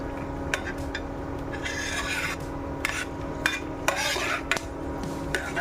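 Almonds are scooped out of a hot kadhai, with a metal spoon scraping and rasping against the pan in repeated short strokes over a low frying hiss.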